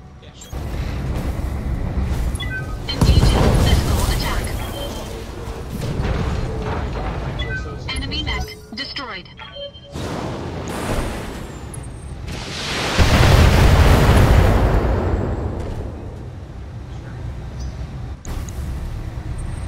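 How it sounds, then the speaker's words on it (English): Explosions and heavy weapon fire from the BattleTech video game: loud, rumbling booms and roaring blasts that swell, fade and surge again, filling the whole stretch. "I'm under heavy fire."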